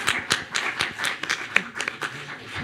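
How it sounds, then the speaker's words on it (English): Clapping hands from a small audience at a peace forum panel on reintegration in Colombia, a quick run of sharp claps, moderately near and fairly quiet, fading out over a few seconds. "we should give her a round of applause"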